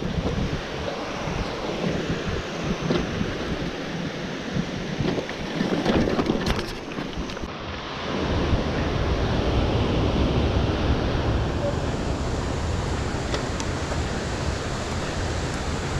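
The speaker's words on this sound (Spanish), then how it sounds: "Empiezo a escuchar ruidos de cachoeiras, de cascadas." A waterfall rushes somewhere near a forest campsite at Cachoeira do Coura in Brazil, a broad steady roar of falling water, moderately distant and growing fuller midway, mixed with some wind buffeting the microphone.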